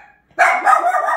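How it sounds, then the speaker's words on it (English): A single close, loud dog bark, a sharp sustained yelp that breaks out suddenly after a moment of near silence. "she's barking at the guy also"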